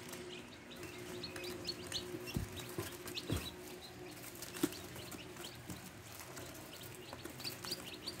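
Two-day-old chicks cheep in a steady stream of faint, high peeps close by, with a few louder chirps and soft rustling against a low background hum.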